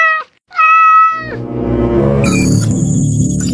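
A cat meows clearly and loudly twice in close succession, then the sound runs on into a dense, noisy musical bed.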